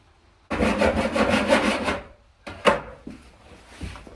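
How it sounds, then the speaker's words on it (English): A tenon saw cuts timber for a narrowboat bathroom bulkhead, making a quick run of rasping back-and-forth strokes, a pause, then a few shorter scrapes and a knock, close by with no voices. "I use a tenon saw"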